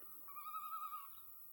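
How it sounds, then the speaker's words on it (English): A single faint, drawn-out whistled bird call with a clear tone sounds in the wilderness along the Appalachian Trail, rising and fading over about a second against a quiet background. "Look at that bird."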